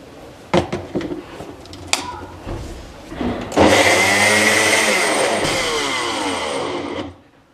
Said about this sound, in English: Then I'm just going to blend this and bake.